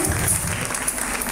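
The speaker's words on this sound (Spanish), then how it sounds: "Dejo un fuerte aplauso a los jóvenes" A dense burst of applause for young runway models at a fashion show in Ponce, Puerto Rico, with many hands clapping steadily at full volume throughout the short moment.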